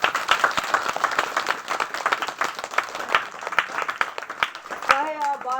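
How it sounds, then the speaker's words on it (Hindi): Applause breaks out at a church ministry gathering, a steady crowd of hands clapping continuously, close and fairly loud, with a voice or tonal sound rising briefly near the end. "एक बार ताली हो गई।"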